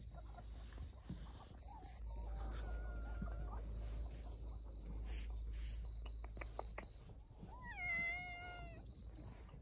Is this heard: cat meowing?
yes